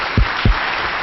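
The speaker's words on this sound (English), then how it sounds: "Please, a round of applause for all of our participants." Audience at a science theater event gives a round of applause for panel participants, a steady wash of clapping with two louder bursts, heard alone without talk.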